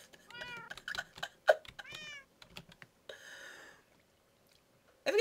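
A cat meows several times in short, rising calls indoors, with a few soft clicks and rustles between the meows and a louder burst at the end; no one speaks.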